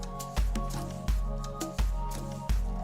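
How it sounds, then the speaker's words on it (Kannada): Cubes of paneer drop into a simmering palak spinach gravy, making several soft, wet plops and squelches about a second apart, close up over a low bubbling background. "ಈಗ ನಾವು ಕಟ್ ಮಾಡಿರುವಂತಹ ಪನ್ನೀರ್ ಕ್ಯೂಬ್ಸ್ಗಳನ್ನೆಲ್ಲ ಹಾಕೋಣ."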